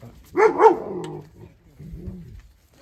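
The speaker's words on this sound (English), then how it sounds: "Dogs are grumpy." Dogs give a couple of gruff barks close by, followed by a low grumbling growl, with rain falling outside.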